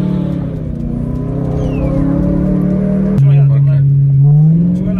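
BMW M3 E92 with straight pipes revving hard while drifting around a roundabout, a loud sustained engine drone that shifts pitch as throttle is reapplied, with someone talking over it.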